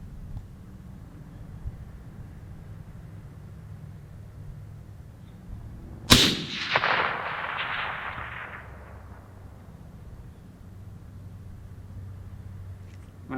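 A single sharp rifle shot from a factory precision rifle cracks out over a quiet outdoor range during long-range target shooting, its report trailing off into a long rolling echo before steady low ambience resumes.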